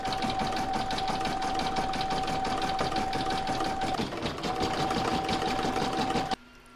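An embroidery machine stitches a satin stitch on a heart for a placemat, producing a fast, even mechanical chatter with a steady whine, loud and close, stopping abruptly at the end.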